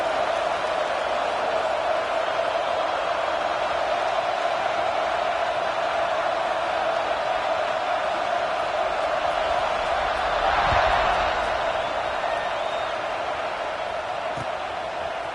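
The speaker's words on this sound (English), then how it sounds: "this crowd is buzzing after that last score" A football stadium crowd buzzing after a score, a loud continuous roar of massed voices filling the background with a brief swell midway, with commentary over it.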